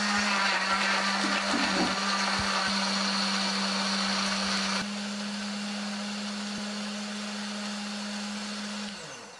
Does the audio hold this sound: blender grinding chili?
yes